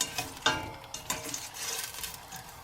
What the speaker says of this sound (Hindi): इसको मैं भूनूंगी, मैंने दरमियानी आंच रखी हुई है।